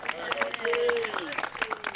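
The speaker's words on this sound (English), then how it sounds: "these guys get a round of applause" Audience applause at a history museum ribbon cutting ceremony, scattered clapping from a small gathering heard under someone speaking.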